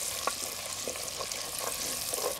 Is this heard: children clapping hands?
no